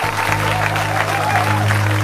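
A congregation at a Christian testimony gathering applauds steadily and fairly close, while a low, sustained tonal hum runs underneath.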